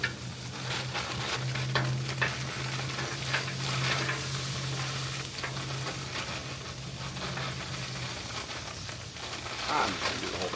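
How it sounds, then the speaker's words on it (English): BJ's store-brand stir-fry vegetables hit a hot Blackstone griddle and sizzle in a steady, loud hiss throughout, with occasional faint scraping. "Just got your BJ's store brand stir-fried vegetables. Let's throw those down."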